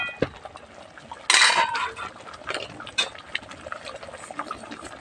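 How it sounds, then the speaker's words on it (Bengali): A spoon stirring butter paneer masala in a pan, with close metallic scrapes and clinks, one louder burst of clatter and sizzle, then lighter irregular taps under a soft cooking hiss, and no talking. "ভালোভাবে নাড়াচাড়া ভালোভাবে নাড়াচাড়া দিয়ে দেবো"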